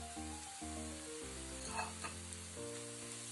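Garlic pickle masala with chili powder sautéing in a pan for a North Indian style homemade garlic pickle, a soft continuous sizzle with intermittent stirring scrapes, close and fairly quiet, with no talking.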